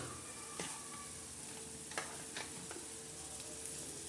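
Tomatoes added to hot oil tempering for a green chilli, tomato, garlic and salt thecha fry with a continuous loud sizzle, broken by a few sharp spatula taps against the pan, with no voices.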